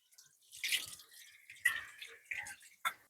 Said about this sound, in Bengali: এইবার আমি পরিমাণ মতো জল দিয়ে দেবো মাংসটা সেদ্ধ হওয়ার জন্য